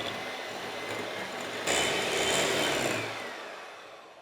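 An electric mixer whirs steadily as soft butter and light brown sugar are creamed together for mini Simnel cakes, a continuous motor drone that rises in intensity partway through, then eases off.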